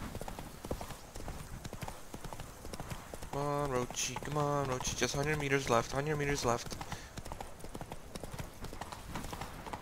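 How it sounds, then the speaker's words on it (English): Horse hooves clip-clop at a riding pace in The Witcher 3, a steady rhythmic clatter running throughout and close by, with someone talking over it and a sung melody coming in partway. "Giddy up, you stupid horse."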